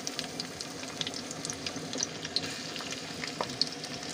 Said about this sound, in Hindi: मेरा तेल गर्म हो चुका है तो इसमें हम प्याज डालने जा रहे हैं।